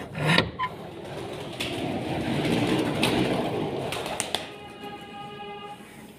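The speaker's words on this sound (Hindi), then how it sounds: "ये देखें कबूतर भी बाहर आए हुए हैं" Pigeons coo softly on a rooftop over a low background hum, with a few sharp taps and a faint tonal whine near the end.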